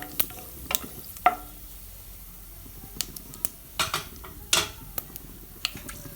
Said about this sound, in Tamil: நம்ம எடுத்து வச்சுருக்கக்கூடிய பட்டை, ஏலக்காய், கிராம்பு, சோம்பு இந்த 3ஐயும் போட்டு தாளிச்சிடலாம்